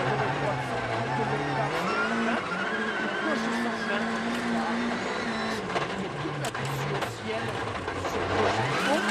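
Sébastien Loeb's WRC rally car on a snowy stage of Rally Sweden 2013, a continuous engine roar with rising and falling revs as it brushes the snow bank, under steady commentary.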